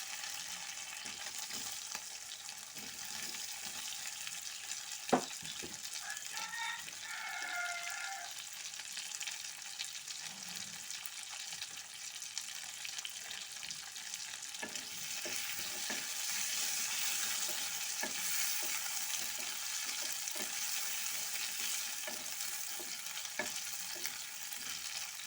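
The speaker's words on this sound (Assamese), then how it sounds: "এই আলুখিনি ফ্ৰাই কৰি ল'ম।" Chunks of potato sizzle and crackle in hot oil for a prawn curry, a steady, fairly quiet frying hiss with occasional clinks of stirring and no talking.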